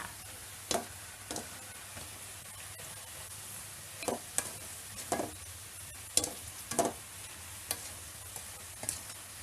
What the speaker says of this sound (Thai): ต้องค่อยๆ คนนะคะ ไม่ต้องคนแรงนะคะ